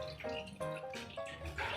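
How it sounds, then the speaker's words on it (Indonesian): Water poured in uneven splashes and trickles onto rice vermicelli noodles to rinse them, faint and close, with brief gurgling bursts. "Setelah ini kita siram dengan air bersih."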